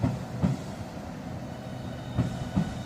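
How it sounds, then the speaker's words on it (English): A Southeastern Class 395 high-speed electric train departs Ebbsfleet International on HS1, giving a steady low rumble with a few periodic thumps from wheels crossing rail joints. "The now departing is 395014 with a lovely spark there."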